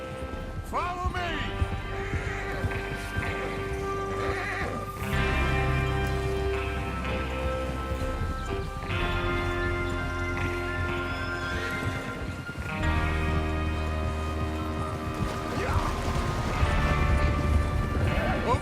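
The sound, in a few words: horses galloping, clip-clop hooves in Red Dead Redemption 2 video game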